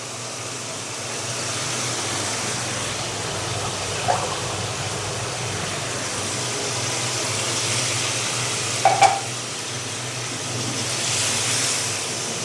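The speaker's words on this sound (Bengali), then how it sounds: "আমি এখন দেবো সেদ্ধ হওয়ার জন্য পানি।" Mince and pointed gourd sizzle loudly in a pan as water is poured in, giving a broad, steady hiss and bubbling wash with a couple of brief clinks, close and without talk.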